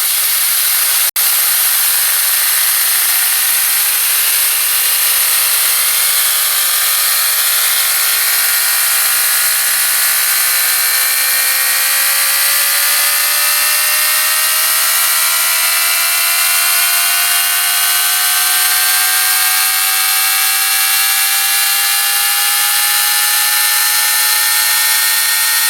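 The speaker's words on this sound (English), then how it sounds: "Well, as you can hear, it's cruising, folks, and that right now is being powered by my invention called the Tromp Hammer." A Tesla turbine run on compressed air made by water flowing downhill into pipes spins up with a loud, steady whine whose tones glide slowly upward in pitch. It is heard alone throughout.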